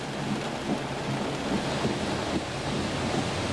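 Rain keeps falling on a flooded street in Caloocan, a steady dense hiss of water that stays unbroken and even throughout, with no voices over it.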